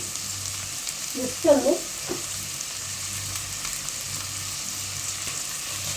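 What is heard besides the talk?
onions sautéing with salt in a pan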